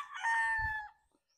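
A six-month-old Boston Roundhead stag gamecock crowing once, a single loud, clear cock-a-doodle-doo lasting under a second, then quiet.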